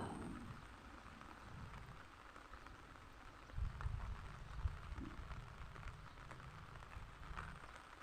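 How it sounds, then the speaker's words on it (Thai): Steady rain falling outdoors in front of a house, a soft continuous patter with a low rumble swelling midway, no voices. "มันบรรยากาศหน้าบ้านจ้ะฝนตก"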